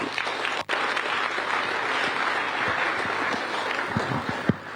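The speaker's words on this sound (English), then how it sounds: "Once more, another round of applause for His Excellency" An audience applauds at a counter terrorism summit with a steady burst of clapping from a sizeable crowd, close and even, fading slightly near the end.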